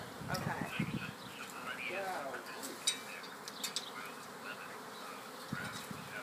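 Bees buzz in a steady, hovering drone with people talking nearby, the swarm sounding close and constant throughout.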